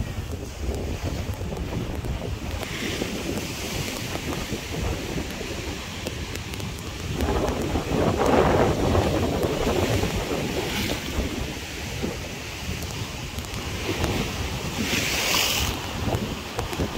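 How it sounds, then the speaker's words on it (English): Waves roll and wash up at Chaloklum Beach on Koh Phangan on a very windy day. Steady surf churns under heavy wind buffeting the microphone, with swells of louder breaking water and no voices. "Check the waves."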